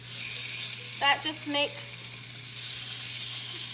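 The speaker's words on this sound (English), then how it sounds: "You're about to hear some sizzling chicken. Listen to that lovely sound." Seasoned chicken sizzling in a hot grill pan, a steady bright frying hiss throughout, with a short bit of talking over it midway.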